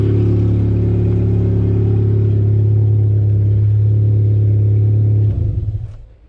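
A Honda K24 engine swapped into a 1983 Volvo 240 idles loud and close with a steady low rumble and disconnected exhaust, then shuts off near the end and the sound quickly dies away.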